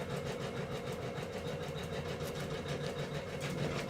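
Embroidery machine doing a stitch out on fabric hooped with stabilizer, a steady rapid mechanical chatter of needle strokes, close and continuous.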